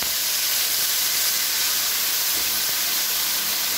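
Tomato sauce hits a hot pan at a university food fair cooking demo in Cochabamba, Bolivia, giving a steady, bright hiss of sizzling that holds evenly throughout with no talk.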